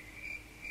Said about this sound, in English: And it's just literally crickets.